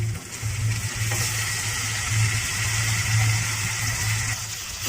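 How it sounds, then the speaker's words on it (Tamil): Golden-brown onions with green chili and tomato sautéing in a pan for poori masala, a continuous close sizzle and crackle with the steady scrape of stirring underneath. "நல்லா வதக்கி விட்டுக்கலாம்."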